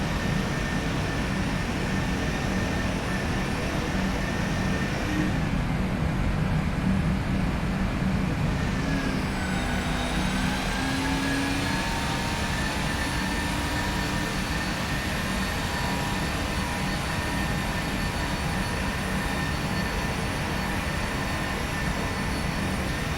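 Boeing 737 engine noise in the PMDG 737NGXu flight simulator makes a loud, steady cabin drone with high whining tones that shift in pitch partway through, with no talking.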